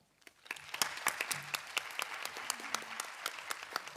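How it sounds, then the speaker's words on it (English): Audience at a conference on inclusive arts programs for youth claps after a presentation, starting softly and building into moderate, sparse applause with individual claps standing out. "Yes, this is your applause, Marisa"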